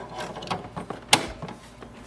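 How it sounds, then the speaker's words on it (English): An ink cartridge is pushed into an HP DeskJet 2755e printer and locks with one sharp click, set among quieter plastic rattles and small mechanical taps. "push this ink cartridge in. Apply a pressure. You hear a lock sound."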